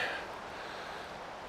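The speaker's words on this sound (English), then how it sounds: "getting pretty windy out there today" Brief steady rush of wind through trees in woods, a broad hiss with no talking.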